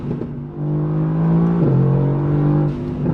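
A RENNtech-tuned Mercedes-AMG GT R in race mode accelerates hard from inside the car, its engine note climbing, dropping sharply at a quick gearshift, then pulling strongly again.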